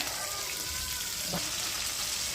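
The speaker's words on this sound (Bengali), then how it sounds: "শুটকি তেল দিয়ে ভাজা হচ্ছে" Dried fish frying in oil gives a faint, steady sizzling hiss, with a single soft pop partway through and no voices.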